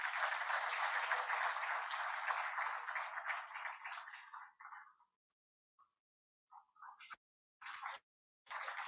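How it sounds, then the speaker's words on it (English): Audience applause at a university event welcoming the Vice President of India, a dense burst of clapping that fades out after about five seconds, followed by a few scattered short claps. "A big round of applause, please."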